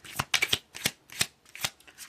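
Tarot cards are shuffled by hand in quick riffling bursts, about six short papery flutters close to the mic in a quiet room.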